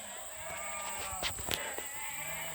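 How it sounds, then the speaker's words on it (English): A flock of about 300 sheep coming down a hill on a farm bleat in short, scattered calls at a moderate distance over a steady outdoor hum, with a couple of louder bleats standing out. "You can hear the sheep coming down the hill."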